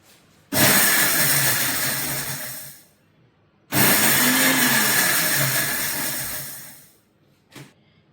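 Two long bursts from a kitchen mixer grinder crushing dried chillies into flakes whir loudly and close, each spinning up sharply and fading as it stops, followed by a short final blip.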